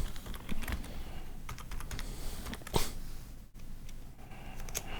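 Typing on a computer keyboard during 3D modelling work: a steady run of close, quick key clicks with irregular rhythm and short pauses, no talking.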